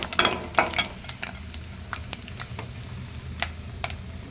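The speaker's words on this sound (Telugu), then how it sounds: "అదే ఆయిల్లో కొంచెం జీలకర్ర, 1 స్పూన్ అయితే జీలకర్ర వేసుకుంటున్నాను" Cumin seeds sizzling in hot oil for palak paneer, a steady close frying hiss broken by light ticking and scraping taps from stirring, loudest at the start.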